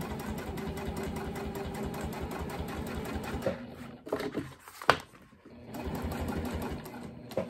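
A sewing machine runs a long basting stitch along a tote bag strap, a steady close mechanical whirr that pauses briefly in the middle, with a few knocks, before resuming.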